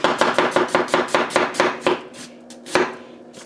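A Kitchen Emperor Damascus santoku knife cuts through food on a board in a fast, even run of about a dozen crisp close chops, then slows to a few final strokes.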